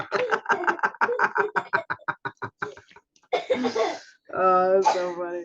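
Kids in a house cough and hack in a rapid series of short bursts, close and loud, ending with laughter-like vocal sounds.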